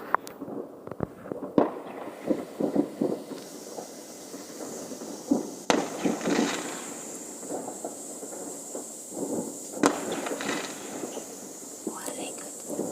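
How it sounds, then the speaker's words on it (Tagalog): New Year fireworks and firecrackers go off outdoors, heard as scattered sharp pops and bangs at an irregular pace, mostly distant and soft, with occasional louder cracks and quiet voices murmuring nearby. "Mga paputok na sa labas."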